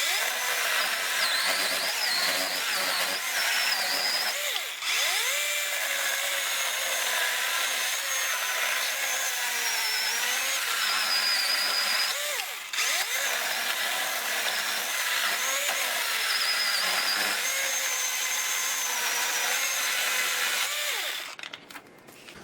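A Ryobi 40 volt Gen 3 battery chainsaw cuts through wood under heavy downward pressure, a steady high-pitched motor whine that dips slightly under load and runs continuously for about twenty seconds before cutting off.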